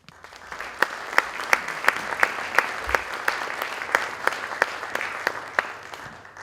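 An audience applauds to welcome lecturers Doug and Brian, a dense sustained clapping from a large crowd with sharp individual claps popping out, steady and loud throughout.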